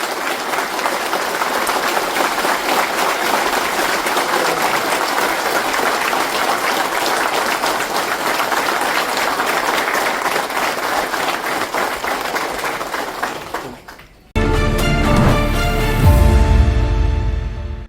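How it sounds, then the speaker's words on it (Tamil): A large audience at a public meeting gives a long, loud, steady round of applause to pass a resolution, which cuts off abruptly near the end and gives way to a low droning sound. "பலத்த கரகோஷம் எழுப்பி இந்த தீர்மானத்தை நிறைவேற்றி தருமாறு கேட்டுக்கொள்கிறேன்"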